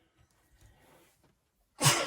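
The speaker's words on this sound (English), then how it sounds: "Oh no, I feel a sneeze coming on." A single sharp sneeze bursts out loud and close near the end, preceded by soft quiet shuffling and faint breathy handling sounds while someone works on a scrap-box journal indoors.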